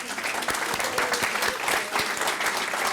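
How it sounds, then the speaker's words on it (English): Dense, steady applause from an audience fills the whole stretch, many hands clapping at once in a loud, continuous wash with no voices standing out. "thank you for your applause"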